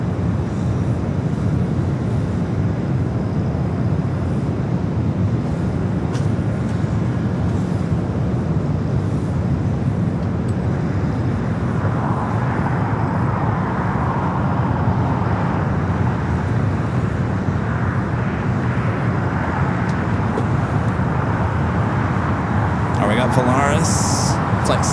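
An American Airlines jet takes off from the north side at Los Angeles International Airport, a sustained distant roar that swells gradually and holds steady over background ambience.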